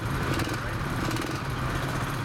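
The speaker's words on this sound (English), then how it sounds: "Students driving open-wheeled carts, all in the name of education." Open-wheeled go-karts built by students race around a track, their small engines making a steady, loud, buzzing drone that fills the whole moment without a break.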